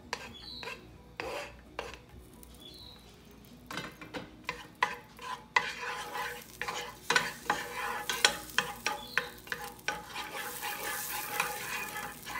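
Onion dropped into melted butter in a wide pot, quiet at first, then a bright crackling fry with rhythmic rasping stirs and scrapes of the spoon against the pot.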